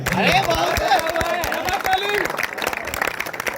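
Student crowd at a campus election campaign event applauding, dense sustained clapping with cheering and crowd chatter mixed in, loud and close throughout.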